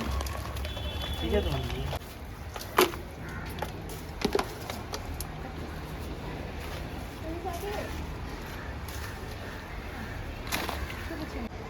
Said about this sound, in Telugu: పొద్దునంతా ఎండగా ఉంది కదండి, వర్షం పడిపోతుంది